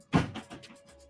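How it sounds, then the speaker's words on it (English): A household door that children struggle with, heard as one close thud of it opening or closing followed by a few softer rattling knocks as it settles. "Man, my kids struggle with this door, bro. We gotta hear it."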